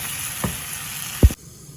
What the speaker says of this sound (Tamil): முள்ளங்கியும் போட்டு கிளறுவோம் முள்ளங்கியை போட்டு கிளறி போட்டு